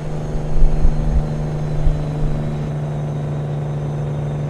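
A Freightliner Classic Flattop truck engine in the video game American Truck Simulator drones low and steady at idle, with a couple of brief rumbling swells early on, then settles into an even, continuous tone.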